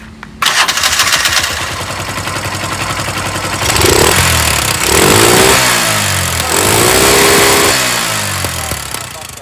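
A motorcycle engine cranks and starts, then revs in several rising and falling bursts, loud and close, with a steady mechanical rattle throughout.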